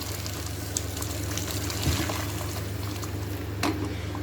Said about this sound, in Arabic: انزل عليها بميه سخنه